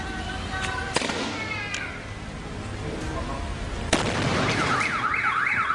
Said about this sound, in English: out of nowhere, fireworks went off